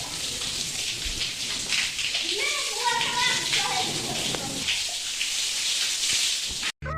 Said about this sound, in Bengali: এখন জল দিয়ে সবগুলি রুম আরেকটু ভালো করে পরিষ্কার